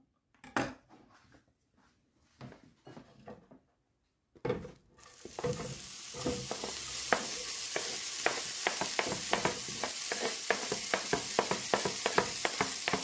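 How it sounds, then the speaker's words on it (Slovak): Chopped onion frying on low heat in a pan. A few knocks and clatters come first, then a steady close sizzle starts, with stirring scrapes and ticks heard throughout. "Takže pokrájanú cibulu dám osmažiť."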